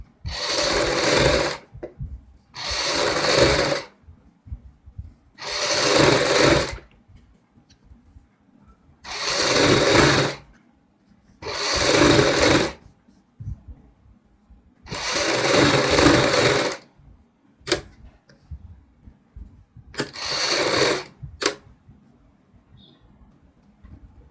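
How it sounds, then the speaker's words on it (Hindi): Sewing machine stitching along folded piping on a kurti neckline, running in about eight short rapid bursts of a second or two each with quiet pauses between, close and loud. "पाइपिंग वाला कपड़ा हम अंदर की साइड फोल्ड करेंगे और पाइपिंग के साथ साथ सिलाई लगाएंगे"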